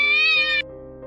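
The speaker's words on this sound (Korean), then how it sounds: "고양이가 달려들었다." A cat meows once, a drawn-out wavering cry that starts loud and bright, then drops into a lower, fading moan, heard alone and close up as an eerie effect in a horror narration.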